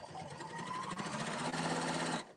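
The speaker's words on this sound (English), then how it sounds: "I'm going to go ahead and send it off stitching." A sewing machine stitching at full speed while quilting, a fast, even mechanical whir held for about two seconds before it abruptly stops, close and steady with no talk over it.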